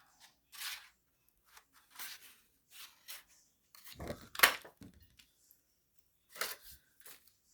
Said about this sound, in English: So let me cut a circle here.